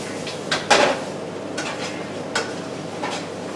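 Food being mixed with Southwest Chipotle Mrs. Dash seasoning in a pan, a faint sizzle underneath several sharp clinks and scrapes of a utensil against cookware, no talk.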